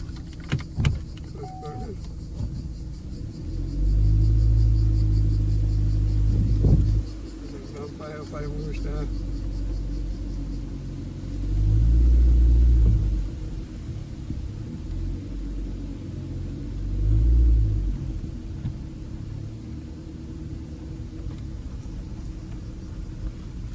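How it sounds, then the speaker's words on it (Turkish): On a village road in Sakarya, Turkey, a car's deep rumble swells loudly as it approaches and passes close by, then fades; more rolling surges follow over a low background hum. "Araba geliyor."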